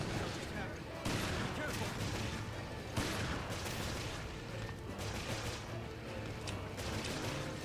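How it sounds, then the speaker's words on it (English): Heavy shotgun blasts in the video game Resident Evil Revelations, two sharp booming shots about two seconds apart over a dense, noisy game soundscape, with a player talking throughout. "Let's just shotgun him when he comes up here."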